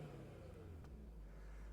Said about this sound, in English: We'll give it a couple of revs.